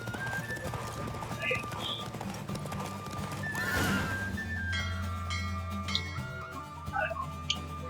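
A racing horse gallops in a video game, rapid clip-clop hoofbeats under talk, with a whinny and sparse ticking sounds rising over continuous game music.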